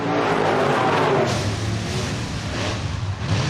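A pack of stock cars roars to full throttle on a green flag restart at Deep South Speedway in Loxley, Alabama. The engine noise is loud, dense and continuous, with no one speaking.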